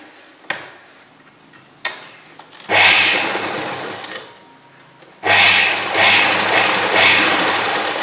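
A sewing machine stitches a folded collar strip in two loud, whirring runs, with a few sharp clicks before the first run starts and a short pause between the runs.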